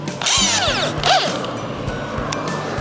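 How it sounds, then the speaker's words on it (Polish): A power drill spins up and bites into wood in short whirring bursts with pitch sweeps, close and loud over faint background noise. "Gdzie to wiertło? Tu jest to."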